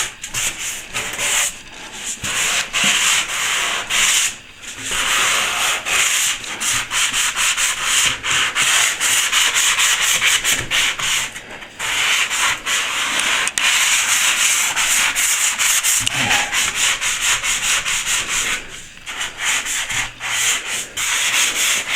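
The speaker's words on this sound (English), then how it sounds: "You can either use a loose bit of sandpaper, or it's just a little sponge sandpaper you can get from Bunnings in a hardware shop." A small sponge sandpaper block rubbed over plasterboard joins, giving loud, close, continuous scratchy strokes in a steady back-and-forth rhythm, with a few brief pauses between passes and no talk.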